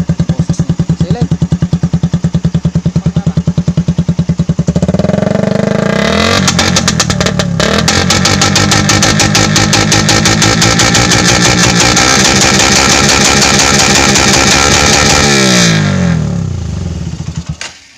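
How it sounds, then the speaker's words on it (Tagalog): A Suzuki Raider 150 carburetor motorcycle fitted with a rapid backfire exhaust idles with a fast, loud putter, then revs hard into a sustained roaring crackle before dropping back down. It sounds close and dominates throughout. "So yun yung boses ng Raider 150 carburetor type na naka rapid backfire siya"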